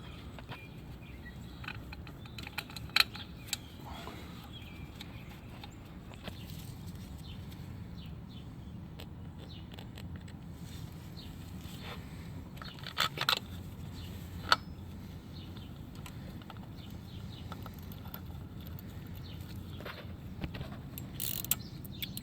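Bolts on a 2011-2015 Chevy Cruze 1.8L timing cover are run down with a Torx T50, making faint, close ratcheting and metallic clicks in short, irregular bursts over a quiet garage background.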